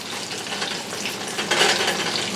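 Pork chops fry in bacon grease in a pan, giving a steady, close sizzle and crackle that holds at an even level and brightens briefly partway through.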